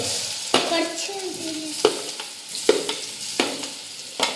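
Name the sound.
nendran bananas sautéing in ghee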